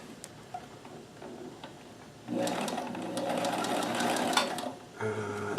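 After a quiet stretch of faint ticking, a Kenmore 158.1914 sewing machine fitted with a stretch stitch foot runs for about three seconds, sewing stretch stitches with a fast, even mechanical chatter.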